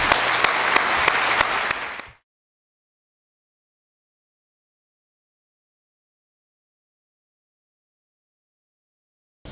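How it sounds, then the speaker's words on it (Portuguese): An audience at a labor-law reform course claps for about two seconds, a dense burst of applause that cuts off abruptly into a long silence. "Mas não sem antes aplaudirmos a doutora Fátima."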